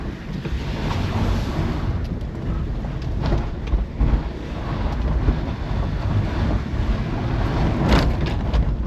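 Heavy wind buffeting a microphone outdoors, a continuous loud rumbling roar with gusty swells and a few sharper bumps, no voices present.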